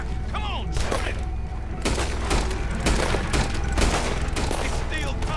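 Rapid gunfire in Red Dead Redemption 2, a dense volley of sharp cracks and booms bursting irregularly throughout, loud and close, with a distant animal-like cry early on.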